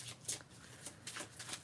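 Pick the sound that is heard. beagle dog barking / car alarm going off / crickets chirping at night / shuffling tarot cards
shuffling tarot cards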